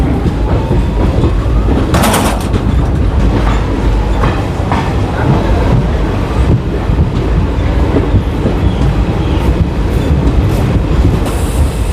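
Guwahati–Ledo Intercity Express rolling along with steady loud rumble and rhythmic clickety-clack of wheels on rail joints, a brief metallic screech near the start, continuous and close throughout.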